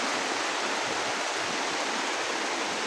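Steady, dense hiss of heavy rainfall pouring down continuously on a rice field during harvest, broadband and unbroken with no voices.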